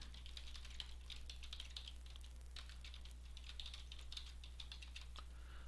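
Soft, steady typing on a computer keyboard, a fast run of light key clicks over a low constant hum, quiet and close with no talking.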